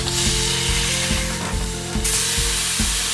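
Fish sizzles steadily in a grill pan over a medium flame, a constant bright hiss broken by soft regular knocks every half second or so, with no voices.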